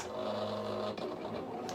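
A Silhouette Cameo cutting machine hums and whirs steadily as it cuts GlitterFlex material, a short, close mechanical drone with slight shifts in pitch.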